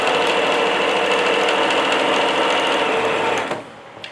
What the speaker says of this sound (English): if everything is good on your sewing machine and you've just done this clean, you will definitely hear it